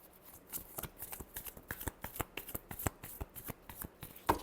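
Playing cards are shuffled in a quick riffle of sharp, rapid flutters, close and distinct, with no talking.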